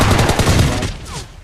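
Gunfire in the PUBG Mobile battle game, a quick burst of loud rapid shots up close followed by a fading tail, with no talk over it.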